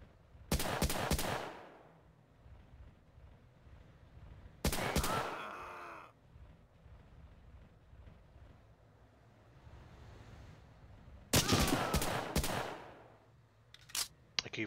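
Rifle gunfire in the game Hidden & Dangerous Deluxe: three loud bursts of rapid shots spaced several seconds apart, with a final short burst, each ringing out over a quiet windy outdoor background.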